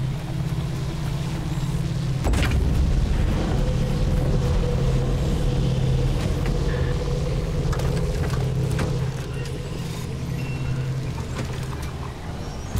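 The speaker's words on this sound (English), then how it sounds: "I'm going to leave the car running this time so we can get going." Idling car engine left running in the Pacific Drive video game, a steady low droning rumble with a faint hum, continuous and fairly loud, without talk.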